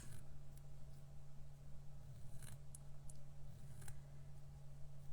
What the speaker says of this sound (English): I like to take it, and this one's easy because it's got lines, and then just cut it in half